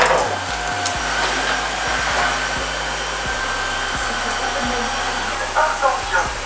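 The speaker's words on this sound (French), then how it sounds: "Veuillez placer l'aspirateur sur la station de chargement pour l'auto-nettoyage" A robot vacuum cleaner running in a home, a loud steady motor whine and whir with repeated low thumps and brief clatters as it moves, no speech.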